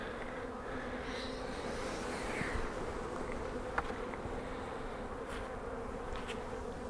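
Honeybees in a spring hive whose colony has eaten most of its pollen patty, a steady dense buzzing hum close by, continuous and even throughout with a couple of faint clicks.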